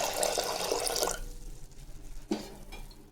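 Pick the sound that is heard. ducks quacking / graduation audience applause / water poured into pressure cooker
water poured into pressure cooker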